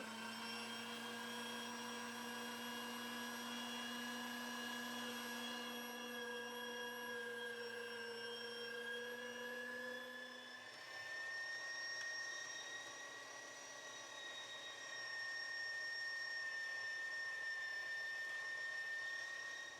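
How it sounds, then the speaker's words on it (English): An electric meat grinder grinding pork, a steady whining motor drone held for the whole stretch with a slight shift in pitch midway, close and moderately loud. "the first thing we need to do is grind up some pork"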